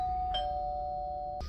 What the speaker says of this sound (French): Soudain, la sonnette de la maison a retenti.